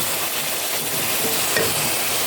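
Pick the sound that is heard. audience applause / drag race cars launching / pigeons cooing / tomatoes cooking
tomatoes cooking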